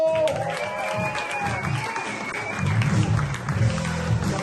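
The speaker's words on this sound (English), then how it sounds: "Please bring up the noise for Terry Doyle!" A live comedy audience claps and cheers for a comedian walking on stage, a dense, steady wash of applause that swells toward the end, with a voice heard over it.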